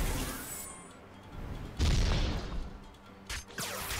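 A cannon fires in the space game Holy Potatoes! We're in Space?!, with a booming blast and crackling burst, then a few softer follow-up hits in a short, low-level sequence.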